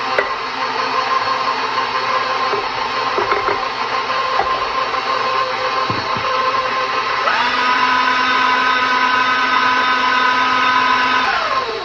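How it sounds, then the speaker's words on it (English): Handheld electric mixer beating gingerbread cookie dough as flour is added slowly, a steady loud whirring motor drone that shifts pitch slightly partway through, continuous with no talking. "a lot easier to do with a handheld mixer sometimes than with a stand mixer"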